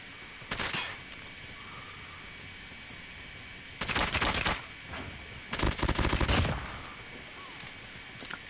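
Bursts of rapid gunfire from the RUS-79U in a video game, fired in short taps: a brief burst, then two longer sustained volleys after a pause, loud and close over a low background hum.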